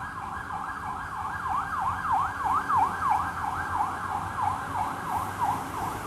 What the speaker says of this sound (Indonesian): udah 3 kali ini ada ambulan